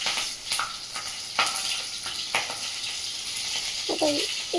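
Whole spices, cumin, and dried and green chillies fry in a kadai of very hot mustard oil, giving a steady, bright sizzling hiss with scattered sharp crackles and pops close by.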